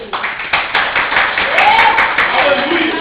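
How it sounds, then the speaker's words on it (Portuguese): Congregation clapping for Jesus during a Portuguese-language church service, a run of rapid, uneven claps near and fairly loud, with voices speaking over it throughout. "Palmas para Jesus"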